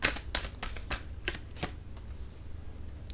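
Tarot cards are shuffled and drawn by hand, giving a quick series of crisp riffling snaps close by, densest at the start and then thinning out into softer handling, with no talking.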